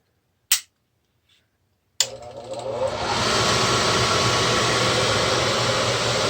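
A Midco gas burner on a Slant Fin Intrepid steam boiler clicks twice, then its blower starts and ramps up into a steady, loud rushing whir for the pre-purge.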